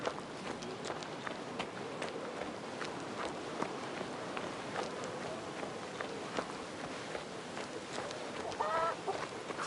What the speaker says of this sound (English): Stupid chicken.